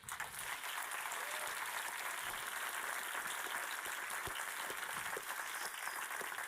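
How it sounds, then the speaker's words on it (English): Sustained audience applause fills an award ceremony hall, a dense steady wash of clapping from a large crowd with no voices over it. "a big applause for them."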